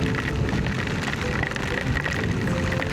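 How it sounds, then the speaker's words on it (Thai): Heavy rain with large, cold drops pours steadily during a drive through a storm, a dense, continuous hiss and patter close to the microphone with no pauses. "ทั้งเย็นทั้งเม็ดใหญ่นะครับฝนตอนนี้"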